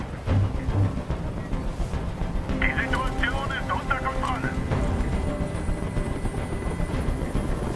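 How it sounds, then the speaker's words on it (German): A steady helicopter rotor drone fills the scene in a video game, Detroit: Become Human, with a voice speaking briefly in German over the continuous mechanical roar. "Dieser Helikopter soll verschwinden."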